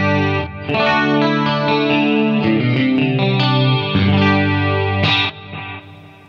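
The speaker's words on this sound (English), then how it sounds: "I have a pitch block which is doing a detune sound" Electric guitar through an Axe-Fx III pitch block set to detune gives a shimmering, doubled effect, playing sustained chords and notes, moderately loud, then fading at the end.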